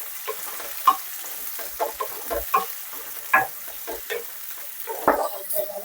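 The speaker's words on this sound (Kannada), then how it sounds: "ಚೆನ್ನಾಗಿ ಫ್ರೈ ಮಾಡ್ಕೋತೀನಿ." Diced onion sizzles softly in garlic oil as it is stirred, with repeated scraping and clicking of the spatula against the pan over a quiet background.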